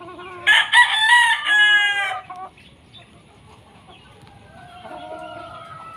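A Golden Boy Sweater gamefowl rooster of AEJ line lets out one loud, close crow, followed by quieter clucking against a faint outdoor background.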